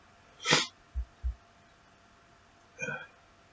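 A sharp, explosive sneeze bursts out nearby, followed after a pause by a second, softer sneeze-like burst.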